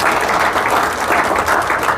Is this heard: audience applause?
yes